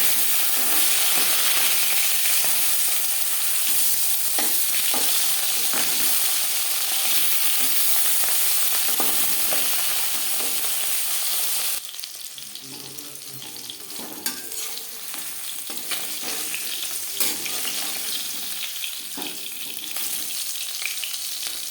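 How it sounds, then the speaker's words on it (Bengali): Rohu fish pieces frying in oil in a pan give a loud, steady sizzle for about twelve seconds, then a quieter, uneven crackle with a few light clinks and no talking. "মাছ ভাজা হয়ে গেছে"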